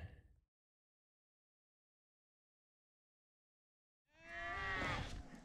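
A loud, drawn-out sheep bleat rings out close by on a Colorado mountain trail after several seconds of silence, with a brief rustle at the very start.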